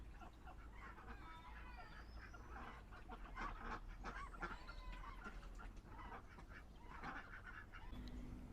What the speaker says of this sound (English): So there's geese there.